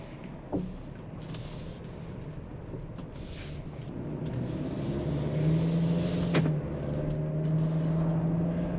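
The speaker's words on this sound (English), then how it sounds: "Now let's go for a drive and see how it is on the road." A Ford Explorer XLT SUV with a 2.3 liter engine and 10-speed transmission driving on the road, heard from inside as a steady low engine and road rumble that swells gradually as it speeds up, with no talking.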